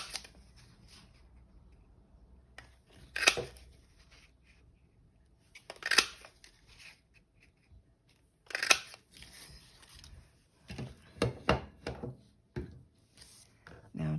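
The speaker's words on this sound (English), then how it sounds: "Let's cut, let's punch some circles out of this." A handheld circle punch cuts rounds out of paper in a few sharp crunching snaps spaced seconds apart, ending in a quicker cluster of clicks, close and crisp in a quiet room.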